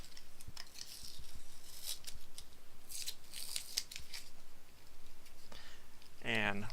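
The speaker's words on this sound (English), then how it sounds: "need to just get a hold of that edge and peel this off of the back" Protective backing peeled off laser-cut Raspberry Pi case pieces, with close crackly tearing and crisp ripping bursts over faint background, a short voice near the end.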